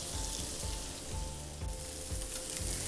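Diced tilapia fries in a hot pan with a steady, dense sizzle and crackle, broken by a few soft pulses of stirring, continuous and close with no talk.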